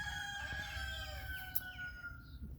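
A rooster crows faintly from a distance in a May backyard garden, a drawn-out call over quiet outdoor ambience, with another bird chirping briefly.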